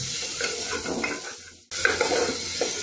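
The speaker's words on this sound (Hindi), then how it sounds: "और गाजर को भी 1 मिनट तक फ्राई कर ले रही हूँ।" Carrots fry in a pan for dalia khichdi, giving a steady sizzle with stirring scrapes, broken by a brief gap before the frying resumes.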